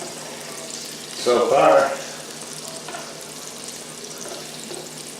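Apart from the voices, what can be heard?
liver and onions frying in a pan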